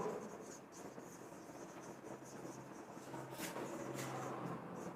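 A marker or chalk scratches across a classroom board in short strokes, faint and somewhat distant, over a steady background hiss with occasional quiet voice sounds.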